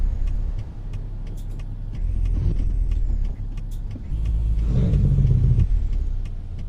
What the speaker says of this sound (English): Okay, truck's gone into neutral.